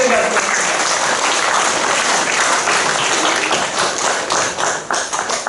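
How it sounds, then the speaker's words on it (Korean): A church congregation at a Monday worship service in a large auditorium breaks into loud, sustained applause, a thick roar of clapping that stays strong throughout and ends with a few uneven, scattered claps. "하나님께 감사 박수 한번 주세요"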